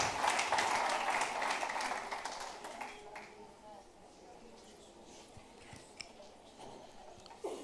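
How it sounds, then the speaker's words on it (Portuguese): A church congregation claps for a few seconds, loud at first and then fading out; afterward the room settles into quiet murmurs with a few faint scattered sounds. "Uma salva de palmas para o Senhor."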